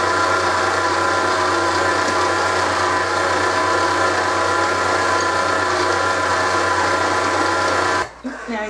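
An electric stand mixer runs loudly and steadily, beating butter as flour is added for cookie press cookies, with a continuous whirring drone that cuts off abruptly near the end.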